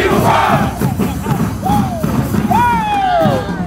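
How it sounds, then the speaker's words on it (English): A crowd of football fans roars and cheers in packed stadium stands at a kickoff for a new turf field, the dense, loud crowd noise running throughout while a few voices rise above it in rising shouts. "Fans packed the stands to cheer on their team and cheer for the finished field"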